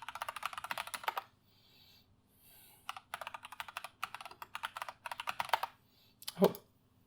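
Fast typing on a computer keyboard, close and crisp, in two long bursts of rapid clicks separated by a pause, ending with a single heavier key thump.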